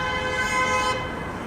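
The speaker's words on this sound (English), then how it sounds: "Honkity honk honk." A car horn sounds at a busy Toronto city intersection, a steady toot held for about a second before cutting off, fairly close and loud over low traffic rumble.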